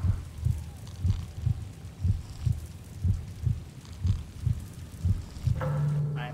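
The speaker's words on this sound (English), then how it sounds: "Why is my heart pounding like that?" Pounding heartbeat effect from the PS2 horror game Kuon, a steady, low, thudding pulse repeating about twice a second, loud and alone, with a sustained low hum swelling in near the end.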